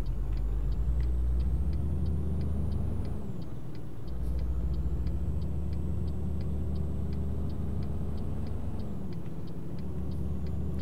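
Heavy truck engine in Euro Truck Simulator 2, driving on a winter road from Kiel toward Bremen, droning steadily as the revs climb, dip briefly, then climb again, with a regular ticking indicator over the rumble.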